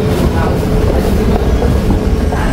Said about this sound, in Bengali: তো এখানে ট্রেন চলে আসছে